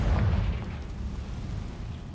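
In the Hogwarts Legacy video game, a Confringo blasting spell goes off as a short, dull muffled explosion with a low rumbling burst that fades quickly.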